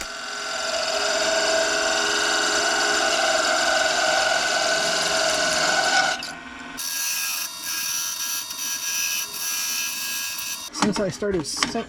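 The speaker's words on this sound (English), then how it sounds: "Now I'm using the parting tool to take it down to the correct dimension." A steady, loud wood lathe whine with the grinding cut of a parting tool into a wooden pen blank runs for several seconds, then changes pitch and continues, ending in a few clattering knocks.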